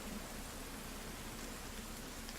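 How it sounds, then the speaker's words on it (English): Morning rain effects in the video game The Forest: a constant, even wash of rainfall with a low steady hum beneath, no talking. "Get the nice rain effects too."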